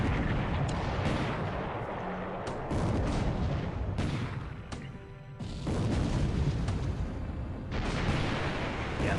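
Heavy naval gunfire and shell impacts boom in a naval wargame, with a dense run of loud blasts and rumbling crashes, a brief quieter lull midway, then more barrages.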